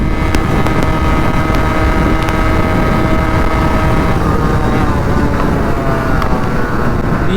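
A Yamaha RX 135 five-speed motorcycle engine drones loudly at speed, steady and close, with wind rushing over the microphone throughout.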